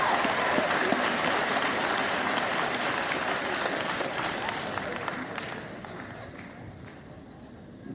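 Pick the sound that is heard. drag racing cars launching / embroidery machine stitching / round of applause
round of applause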